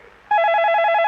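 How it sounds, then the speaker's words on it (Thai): Telephone ringing, a loud electronic warble that cuts in abruptly and trills rapidly and steadily, close and clear with no talk over it. "โทรศัพท์มาแล้วเอาเอ้ย"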